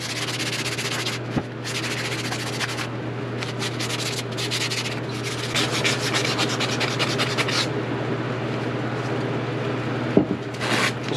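Gritty rubbing of 400 grit sandpaper worked against a GY6 scooter clutch in rapid back-and-forth strokes, with short pauses between bursts over a steady low hum.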